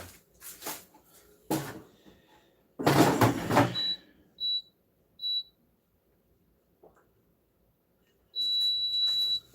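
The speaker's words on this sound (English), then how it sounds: "We're gonna put this in the air fryer for a couple minutes to let the cheese melt" Chicken pizza is loaded into an air fryer in a home kitchen: a few clattering knocks and handling sounds, then the appliance gives several short high electronic beeps, ending in one longer steady beep.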